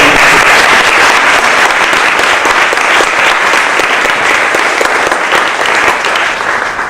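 A loud, dense round of audience applause for Linda at an education partnership showcase, sustained evenly and tapering slightly at the end.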